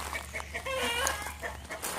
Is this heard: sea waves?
no